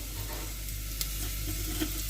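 Egg fried rice sizzles steadily in a pan as it is stirred, a continuous broadband hiss with a faint low hum and a couple of soft scrapes, no talking.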